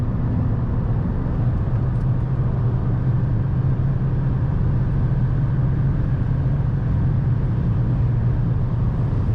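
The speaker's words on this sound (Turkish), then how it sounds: "Rüzgar sesi mesela 110'dan sonra gelmeye başladı." A 2nd-generation VW Golf 6 1.4 TSI 122 hp manual cruising at highway speed gives a loud, steady cabin roar of wind and road noise with a low engine drone underneath, continuous and unbroken.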